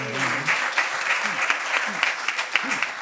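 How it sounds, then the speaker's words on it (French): Wedding guests applaud the newlyweds, a dense round of clapping that carries on under a voice speaking over it. "On vous applaudit."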